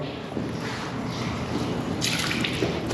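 Steady trickling and dripping of red liquid poured down a Lincoln Town Car windshield, a continuous wet splashing close by with a brighter gush near the end, no voices.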